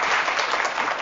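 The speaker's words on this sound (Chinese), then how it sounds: "让我们掌声来欢迎肖老师" An audience applauds to welcome a lecturer at a university talk, a dense, steady burst of clapping filling the whole short stretch.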